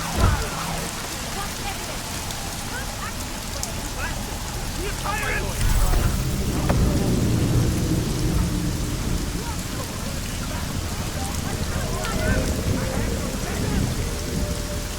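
Heavy rain pours steadily in Deus Ex: Mankind Divided, with rumbling thunder swelling midway, a dense continuous storm wash close around the listener.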